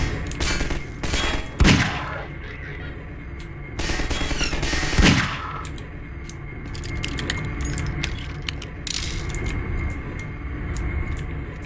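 Bursts of gunfire from the video game Half-Life 2 ring out in loud rapid volleys, with sharp cracks clustered early and again midway, then scattered lighter shots toward the end, with no talking.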